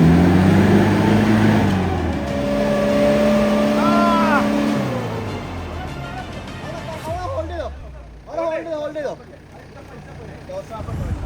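A Mitsubishi Pajero's engine revs hard as it climbs a steep off-road slope at Vagamon in Kerala, the throaty drone rising and falling, with people talking over it throughout.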